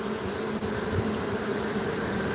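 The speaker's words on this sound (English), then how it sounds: "We got a bee motor running here." Swarm of honeybees captured on Mother's Day outdoors, a steady dense buzzing drone of wings fanning, continuous and fairly loud throughout with no talk.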